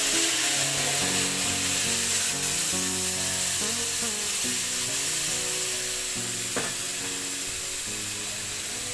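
Spice paste for a koi fish dish poured into a hot pan, hissing in a loud, continuous sizzle under a layer of background music.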